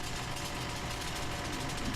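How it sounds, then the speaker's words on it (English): Airbus A320 engine blades turning in the Fenix flight simulator give a steady, dense mechanical drone with a low hum underneath, held evenly throughout without talk. "This is the engine blades turning, what you can hear in the background."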